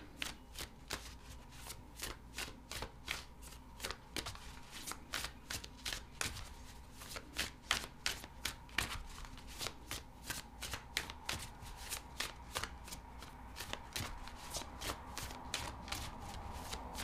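Tarot cards shuffled steadily and close by, a quick repeating riffle of crisp slaps and flutters running throughout at a fairly quiet level with no talking.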